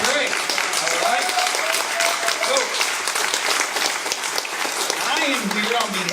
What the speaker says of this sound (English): How about a great big round of applause for Destiny Wells and Valerie McCray?